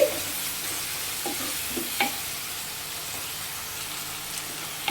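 Chopped onions sauté with salt in a hot pan, giving a steady, close sizzling hiss broken by occasional soft stirring scrapes and clicks, with no voices.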